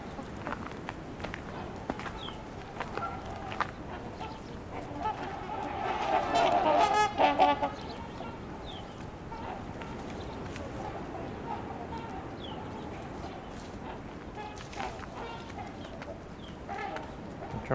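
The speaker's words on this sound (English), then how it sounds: "You can hear the house sparrows here." Trumpeter swans honk in a brief loud burst of trumpeting calls from a flock, with house sparrows chirping faintly throughout against steady outdoor background noise and some talk.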